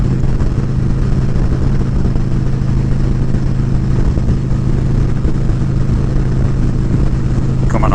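A Harley-Davidson Road Glide cruising on the highway, its loud, constant low engine drone mixed with wind rush throughout, with no change in pace.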